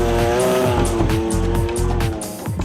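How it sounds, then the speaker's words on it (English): A Mazda RX7 fitted with a twin-turbo, Australian-built 20B triple-rotor engine roars loud and close, its revs rising and falling in rapid repeated pulls, with tire squeal and popping exhaust bursts and no voices. "The engine, however, has been replaced with an Australian-built 20B triple rotor."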